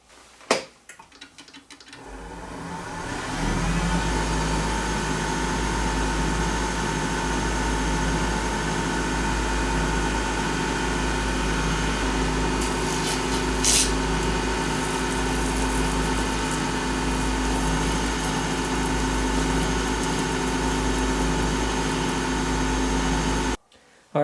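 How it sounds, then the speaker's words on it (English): A pen watch-part cap being sanded and polished on a spinning lathe: the motor spins up and holds a steady, loud droning hum with a brief scrape midway, then cuts off abruptly. "Now I'm going to lightly sand that. I'm going to polish it up"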